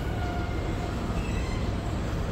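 A Washington Metro train moving at New Carrollton Station, heard as a steady, loud, broadband rolling rumble with a faint high whine, continuous for a couple of seconds, no talking.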